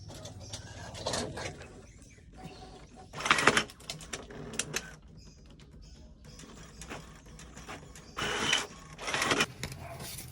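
A printer whirs and clatters as pages feed through, with mechanical surges rising and falling in bursts over a low hum.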